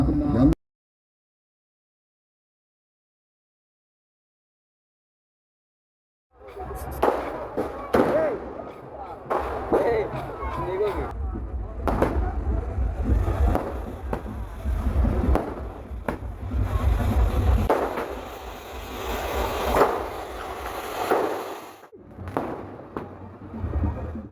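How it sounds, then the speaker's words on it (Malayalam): Fireworks burst during the Kondotty Nercha festival procession, a dense run of loud crackling bangs and pops after a silent opening, with crowd voices mixed beneath. "വെടിക്കെട്ടോടുകൂടിയുള്ള വെട്ടിവരവാണ് ഈ വാഹനത്തിന്റെ തൊട്ടു പിന്നാലെയായി കടന്നു വരുന്നത്"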